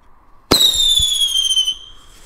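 Vulcan Duro Colpo single-shot firework launching, a sharp loud bang followed by a long bright whistling shriek that fades over about a second and a half, with no voices.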